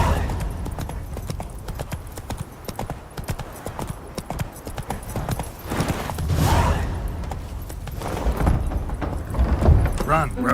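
Roach, the horse in The Witcher 3, galloping with rapid, loud clip-clop hoofbeats in a steady rhythm that swells and fades, with other game sounds mixed in.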